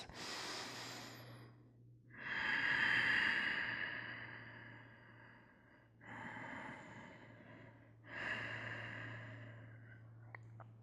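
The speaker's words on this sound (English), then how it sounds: "Just take a couple of breaths." Slow, deep yoga breaths during a seated spinal twist, long audible inhales and exhales alternating close to the microphone over a low steady hum.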